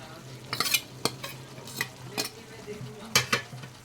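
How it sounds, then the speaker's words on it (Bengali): Prawns fried earlier, coated in salt and turmeric, are stirred in a frying pan with raw tomato, giving a string of scraping, clattering strokes over a low sizzle, close and moderately loud. "সবগুলোকে ভালো করে নাড়িয়ে দেবো"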